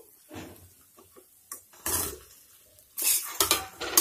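Arbi (taro) leaves go into a pan of sautéed ingredients and get stirred, giving scattered clinks and scrapes of a spoon against metal cookware, with louder bursts of stirring near the end.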